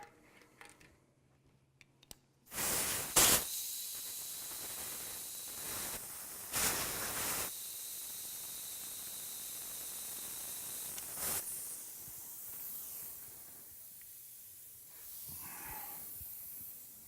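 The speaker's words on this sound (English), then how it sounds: "Once the hissing is stopped and you've got an inflated tire" Compressed air hisses in several separate bursts while a spare tire is inflated, loud and close, each burst lasting about one to four seconds, with quiet gaps between them and a fainter hiss near the end.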